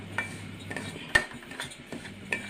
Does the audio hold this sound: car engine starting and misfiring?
no